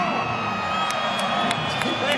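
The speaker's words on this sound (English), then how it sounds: "Let me hear you scream if you are going to be silent." A large arena audience at a live motoring stage show in Glasgow screams and cheers continuously, a loud dense roar with whoops and shrieks, while a presenter's amplified voice carries over it.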